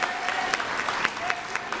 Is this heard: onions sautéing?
no